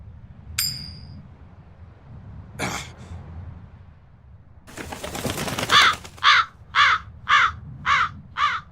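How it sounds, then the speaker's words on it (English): A crow in the video game Tales of Berseria caws loudly and close by in a rapid run of about six harsh calls, after a few scattered rustles and a brief whoosh, with no talking. "That crow just flew off with the coin!"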